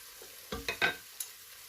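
Beansprouts with oyster sauce are stir-fried in a pan: a faint sizzle under a few quick scraping stirs, three close together and one more a moment later.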